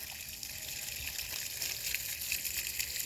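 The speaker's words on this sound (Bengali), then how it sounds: "এই দেখেন ফুল পানি, দেখেন কি স্পিড, কত দূরে যায় পড়তেছে।" A battery- or solar-powered water pump runs at full flow, its jet gushing out in a steady, even rush of water that holds without pause for the whole stretch.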